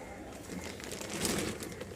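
Pigeons coo softly in a loft or market setting, a low murmuring call repeated under faint rustling and background noise, moderately close but quiet.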